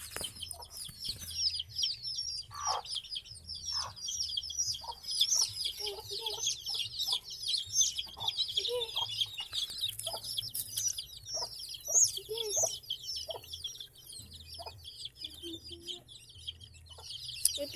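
Chickens cluck repeatedly in short irregular bursts, with a steady chorus of small birds chirping high in the background and a low hum underneath.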